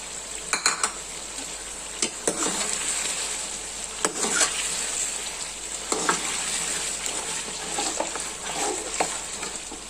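Garlic cloves and green chilies fry in a hot pan with a steady, continuous sizzle, broken now and then by sharp clinks of a spoon stirring against the metal; no one speaks.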